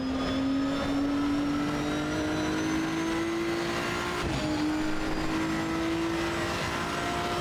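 A mid-engine car in the Assetto Corsa Evo racing game drones steadily with a smoothly rising engine note, one brief dip as it shifts, and no talking over it.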